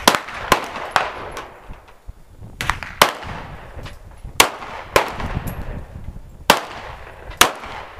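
Gunshots at an outdoor shooting range ring out as sharp, loud cracks, about a dozen spaced irregularly, each with a short echoing tail and quieter noise between.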